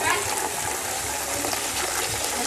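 Shower water gushes over a pig during a festive gathering in Cajamarca, Peru, a steady, close rush of splashing water that runs unbroken from start to finish.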